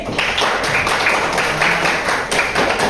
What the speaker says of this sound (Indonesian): Tepuk tangan dulu untuk Hafiz.